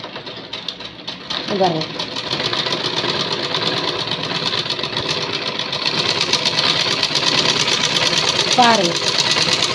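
A sewing machine stitching along folded fabric, a steady, fast mechanical whir and rattle running continuously close by while someone talks over it.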